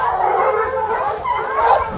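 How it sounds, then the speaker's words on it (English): A pack of dogs barks and howls at a bear during an outdoor chase, a loud, continuous mix of overlapping yips and baying voices throughout. "a fearless pack of dogs refuses to back down"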